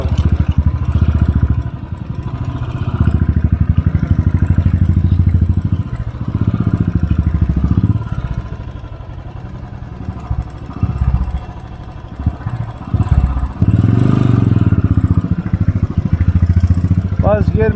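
A motorcycle engine labours uphill in first gear on a mountain road in North Sikkim, a loud, continuous rumbling drone that rises and dips, with people talking over it.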